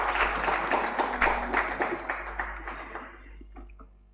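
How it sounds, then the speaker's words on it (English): Audience at a tech accountability summit clapping hands in a dense round of applause that thins and fades into scattered claps. "Let's just give them hand claps"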